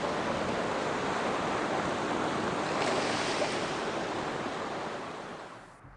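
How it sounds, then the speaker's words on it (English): Ocean waves crash and wash steadily at the close of a produced song, a broad continuous surf roar that holds for several seconds and then fades out at the end, with no voices. "I like it ending with the waves crashing."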